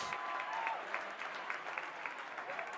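Crowd applauding steadily at a girls' high school basketball game after a player's layup, a dense continuous patter of clapping filling the gym from start to finish.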